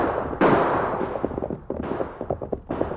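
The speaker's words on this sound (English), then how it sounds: "Use your guns, Tonto." Several gunshots crack out in rapid, irregular bursts as a masked rider and Tonto fire at three fleeing outlaws in an old western radio drama, loud and close, overlapping one another.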